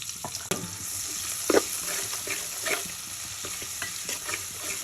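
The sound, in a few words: onions frying on stove like beresta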